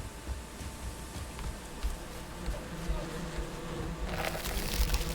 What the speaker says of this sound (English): I'm not happy to be stung, but at the same time, since there are bees in there, I want them.